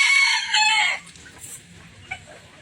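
A rooster crows loudly and close at a mini farm kept with bantams and turkeys, followed by softer clucking and scattered fowl calls in the background.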